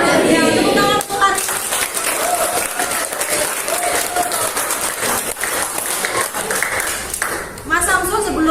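A class of students clapping their hands together in a dense, steady burst of applause that runs almost the whole time, with voices talking over it near the start and end.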